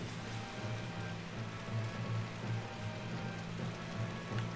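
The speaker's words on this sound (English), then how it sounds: "Still raining." Rain falls in the video game Final Fantasy 12, a faint, steady patter over a low ambient hum that carries on evenly without talk.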